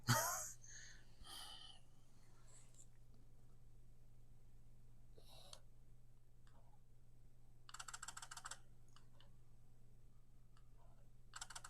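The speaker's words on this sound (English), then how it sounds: "If you hear a lot of clicking in these clips while I'm here in the bird watch, it's the camera." A camera shutter clicks inside a bird-watching blind at a nature preserve, short bursts of rapid faint clicks scattered over a quiet background with a steady low hum.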